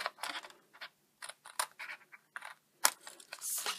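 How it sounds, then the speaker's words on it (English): Scissors cutting across card diagonally toward a corner, a series of short, close, crisp snips in quick bursts with brief pauses between. "Flip your card and come across and cut on the diagonal to that corner there."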